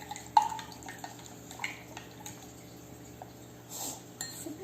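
A spoon stirs a baking soda mixture in a glass, giving a few sharp clinks and soft scraping taps that come up close and fairly quiet, with no talking.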